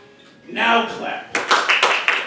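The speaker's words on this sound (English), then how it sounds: "Now clap." Studio audience at a live music-quiz game show breaks into brisk applause, sharp dense claps swelling after a host's voice and continuing to the end.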